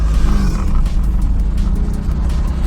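A manual car in second gear accelerates as the clutch is let out, a loud, steady engine drone close by that holds at a constant level with no spoken voice.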